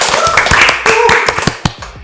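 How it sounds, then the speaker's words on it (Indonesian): A short, lively burst of hand clapping for the opening of an Indonesian talk show, with close, crisp claps mixed over a tonal background sound. "Tepuk tangan dong guys"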